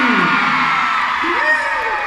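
Fans at a Kang Daniel fan meeting in Singapore scream and cheer together in one loud, sustained burst of high-pitched crowd yelling that lasts the whole moment.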